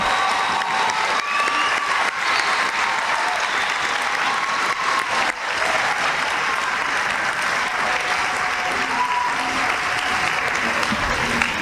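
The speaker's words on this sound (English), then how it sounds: "Can we have one more big round of applause for the Upper Moreland School class of 2025?" Sustained loud applause from a large crowd at an 8th grade school promotion ceremony, steady clapping with a few faint cheers and shouts mixed in, continuing throughout.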